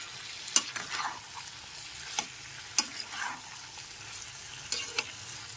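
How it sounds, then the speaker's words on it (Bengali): Lightly fried soya chunks are stirred with potatoes and spices in a pan, with a quiet continuous sizzle broken by several sharp scraping clinks of the spoon against the pan. "হালকা ভেজে রাখা সয়াবিনগুলো দিয়ে খুব ভালো করে মিশিয়ে নিতে হবে।"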